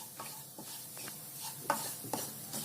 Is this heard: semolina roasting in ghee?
yes